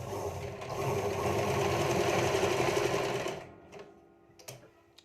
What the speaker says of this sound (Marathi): सगळीकोण तुम्हाला अस्तर आणि मेन फॅब्रिकवर टीप टाकत घ्यायची आहे बघा सुरुवात आपण शोल्डरपासून करूयात